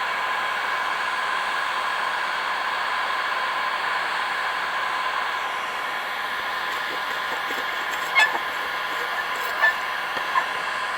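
A heat gun blows a steady, airy whoosh while stripping paint and finish from a guitar body, a constant hiss with a few faint clicks and scrapes near the end.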